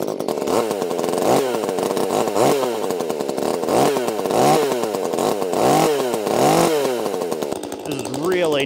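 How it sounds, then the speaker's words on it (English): A chainsaw cuts through wood, its engine loud and close, surging and dropping in repeated rhythmic revs throughout, with speech at times. "I don't want to run a saw to split wood"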